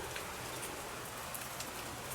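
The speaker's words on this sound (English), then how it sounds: "hopefully we'll get a break in this rain" Steady rain falls on a campsite at a lake state park during a storm, a soft, even hiss of drops with faint taps on surfaces and no voices.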